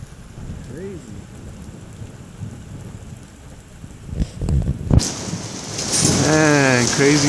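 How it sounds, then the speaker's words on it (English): Heavy rain pours steadily during a storm with floodwater in the streets, and a deep rumble of thunder builds midway, followed by a loud rushing swell; a person talks quietly underneath. "crazy thunder."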